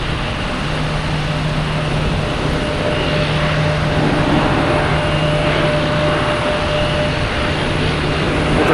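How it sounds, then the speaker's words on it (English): A JetBlue Airbus A321 landing at Boston Logan from Las Vegas, a loud, steady broadband jet roar with a sustained engine whine that holds constant throughout, no voices. "JetBlue coming in from Las Vegas"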